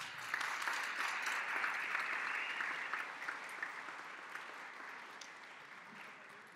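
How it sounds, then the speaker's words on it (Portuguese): An audience at a workshop event gives steady, dense applause that slowly fades over several seconds, with faint voices beneath it. "Eu peço mais uma vez uma salva de palmas."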